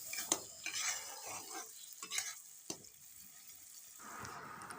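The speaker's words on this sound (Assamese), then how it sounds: "তাৰপিছত এইখিনি মই ধুনীয়াকৈ মিলাই ল'ম।" Masala paste stirred in a pan for an Assamese mustard-tomato fish curry, with scraping spoon strokes and soft sizzling close by, a few sharper clinks against the pan, no talking.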